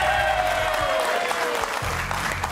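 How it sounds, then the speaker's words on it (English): Studio audience applause on a late-night sports talk show, steady and dense throughout, with music playing underneath. "Keep the applause going."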